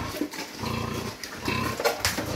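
Pigs in a wet pigsty grunt and snort repeatedly in an irregular rhythm, close by, with scuffling and farmyard background noise.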